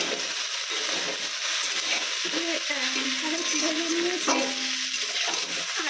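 Okra fries in a home kitchen pan while a spatula stirs it, producing a constant close sizzle with scraping and clinking strokes through the mixture.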